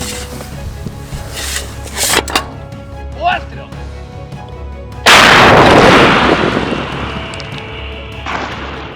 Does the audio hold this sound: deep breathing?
no